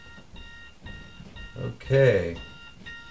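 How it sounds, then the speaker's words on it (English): An alarm clock goes off with a steady beeping tone. A person talks briefly partway through and the beeping continues under the voice. "That just happens to be my alarm to let me know that it's time to go to work"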